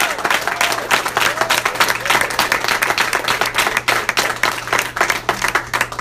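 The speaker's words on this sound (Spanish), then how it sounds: "También dale un aplauso." A seminar audience bursts into dense, sustained applause, many hands clapping in a loud rapid patter that carries on for several seconds in a large room, with a low hum underneath.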